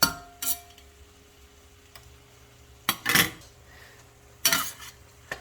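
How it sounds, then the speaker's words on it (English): Metal utensils scrape and clank against a pan as lo mein with pumpkin blossoms, onions, ginger and meat is stir-fried, with a few sharp sizzling bursts between quieter stirring. "We started with some onions and ginger sauteed in the pan and then added in the meat."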